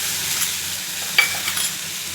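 Cumin fries in a pan with ginger paste and a little water, giving a bright, continuous sizzle with a soft stirring clink partway through.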